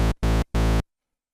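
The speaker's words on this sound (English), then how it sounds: "what you're hearing there is just Oscillator 1 on its own, and this is the triangle wave shape" A TAL NoiseMaker synthesizer's first oscillator alone, on a triangle wave, with a bright, buzzy timbre plays three short, even notes in quick succession, then stops, leaving silence.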